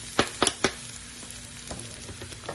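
Garlic and onion sauté in a pan over low heat as the start of a zucchini dish, giving a soft continuous sizzle with a few sharp stirring clacks near the start.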